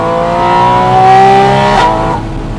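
A Porsche Spyder RS engine revs loudly, close by, its pitch rising and holding, then dropping off sharply into a lower idle.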